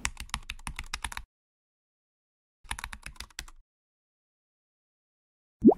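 Two bursts of rapid typing on a computer keyboard, clear and close, separated by a silent pause, ending with a brief rising electronic blip, with no talking.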